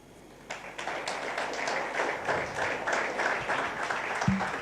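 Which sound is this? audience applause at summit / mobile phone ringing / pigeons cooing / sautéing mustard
audience applause at summit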